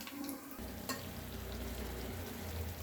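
A mint and coriander paste with tomato puree goes into a hot frying pan, setting off a steady close sizzle with soft stirring scrapes throughout, no voices.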